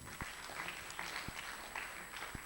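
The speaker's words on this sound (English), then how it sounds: "Can you please clap for them again?" Audience applause at a tech training closing ceremony, a steady wash of clapping from a crowd with a few sharp, isolated thumps cutting through at intervals, no talk over it.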